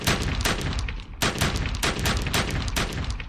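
Rapid rifle gunshots fire in a repeated burst, a dense series of sharp, loud cracks roughly every quarter second with no pause, like a gunfire sound effect.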